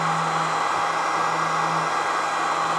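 The cooling fan of an ISDT FD-100 battery discharger running at about 6 amps whirs steadily close by, a constant airy hum with a faint tonal drone underneath.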